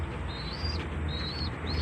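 Breeder pigeons in a loft give soft, low cooing under a steady background hum, with a few thin, high chirping whistles repeating through the short stretch.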